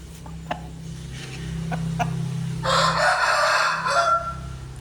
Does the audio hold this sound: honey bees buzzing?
no